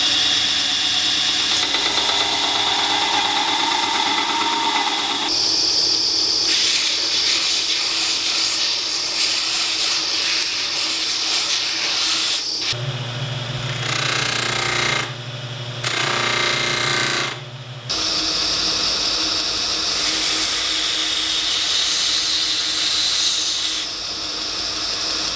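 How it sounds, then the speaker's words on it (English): A loud grinder works a knife handle made from a lawnmower blade, a harsh continuous whine whose pitch and texture shift as the grinder is applied and lifted, with brief gaps between passes. "Now it's time to grind the handle"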